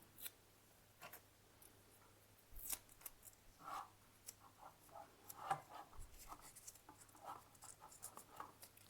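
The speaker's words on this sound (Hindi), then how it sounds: "इसको आपको टेप लगा देना है।" PVC electrical tape is pulled off the roll and wrapped around a twisted wire joint during ceiling fan regulator wiring. Faint, irregular ripping and crinkling sounds arrive in short bursts, close by, with no speech.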